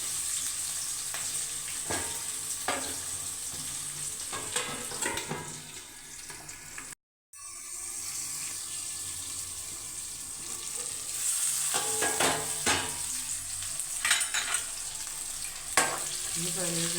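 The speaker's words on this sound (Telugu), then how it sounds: "ఉల్లిపాయలు వేసేసి టమాటా, కరివేపాకు వేసుకున్నాం." Onions, tomato and curry leaves frying in a pan for a sea snail and drumstick masala curry, a steady close sizzle with scraping stirs throughout and a brief dropout partway.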